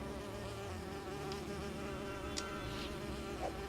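Bees from the Lego Lord of the Rings video game buzz in a steady, continuous drone, with a soft game soundtrack humming underneath.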